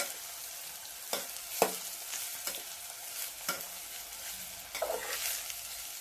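Chopped onion sizzles in a pan on a village wood-fired chulha while mutton is prepared. A low, constant frying hiss runs beneath several sharp, separate clacks of a spoon stirring against the pan.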